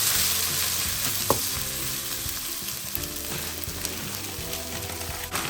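Egg frying in a pan for vegetable egg fried rice sizzles steadily and loudly up close, with a few soft stirring scrapes and taps over the continuous crackle.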